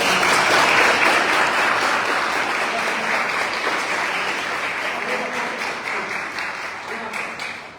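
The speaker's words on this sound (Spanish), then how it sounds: "¿cómo no le vamos a premiar con un aplauso espectacular?" Enthusiastic audience applause at a university master lecture in an economics faculty, a loud, dense clapping that holds steady, then slowly tapers across nearly eight seconds.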